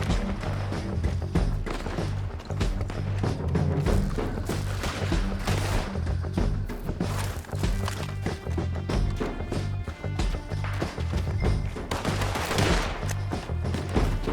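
Gunfire in the Western game Red Dead Redemption 2, a dense, sustained exchange of loud shots and rapid bursts lasting throughout, close and punchy over a busy background of action.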